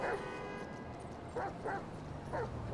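A dog barks several times, close and loud, with a pause between a first yelp and a later run of three sharp barks, over background noise.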